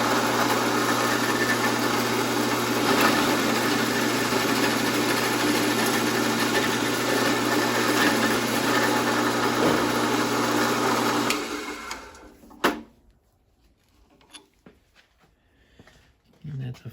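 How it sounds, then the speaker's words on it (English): A drill bores out the center hole of a trunk and convertible hinge on a 1954 Kaiser Darrin, a loud steady whirring drone for about eleven seconds, then stopping to near quiet with a few clicks and knocks. "Go ahead and drill out this center hole."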